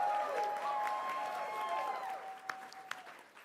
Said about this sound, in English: Audience, give them another round of applause for making it to this stage.